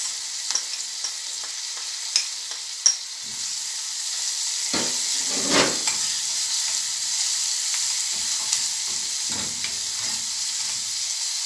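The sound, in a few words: garlic sizzling in a pan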